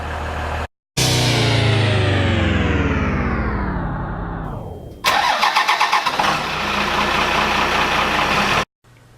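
A 12V Cummins diesel fitted in an 80 series Land Cruiser revs high, then winds down through a falling drone into a steady, clattering idle. It is close and loud, with brief cuts, and no one speaks.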